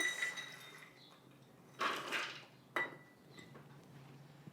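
A cup of pecans tipped into a blender jar, heard as two quick bursts of rattling, clattering nuts against glass, quiet overall with a hushed room between them.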